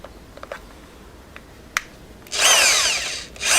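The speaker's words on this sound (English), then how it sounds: "make sure your drill's turning clockwise" A power drill fitted with an Amtech drill bit sharpener runs up with a loud, steady high whine for about a second, then stops briefly and restarts, following a few faint clicks.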